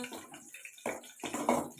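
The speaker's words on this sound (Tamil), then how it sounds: "நல்லா கொதிக்குது, இன்னும் கொஞ்சம் வேகட்டும்." Okra pachadi simmering in a pot on the stove, with wet bubbling and gurgling bursts that swell and fade in a few uneven surges, close and moderately loud, with no talking over it.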